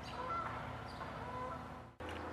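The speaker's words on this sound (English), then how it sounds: "There's some geese." Geese honk outdoors in a few faint, scattered calls over a steady background hum, ending with a sudden cut.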